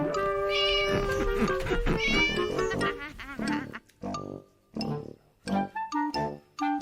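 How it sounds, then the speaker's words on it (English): A cat meowing in a children's story reading, with a long drawn-out yowl followed by several shorter separate meows, close and fairly loud. "Winnie lived in her black house with her cat Wilbur."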